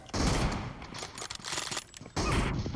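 Gunshots in a mobile shooter video game during a team deathmatch with an M24 come as sharp, loud bursts. A heavy blast opens the stretch, scattered cracks follow, and a second loud burst comes near the end.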